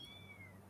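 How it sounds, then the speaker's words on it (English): A cat hiding under a couch gives a single thin, drawn-out meow, faint and slightly muffled, sliding slowly down in pitch over a quiet room hum. "he is meowing because he can't"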